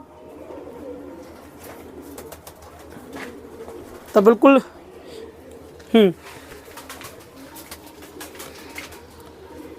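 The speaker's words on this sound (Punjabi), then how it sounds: "ਇਹ ਗ੍ਰੀਨ ਅੱਖਾਂ ਵਾਲੇ ਕਬੂਤਰ ਨੇ" Green-eyed pigeons in a loft give two distinct, fairly loud cooing calls a couple of seconds apart, over quiet background talk and low room hum.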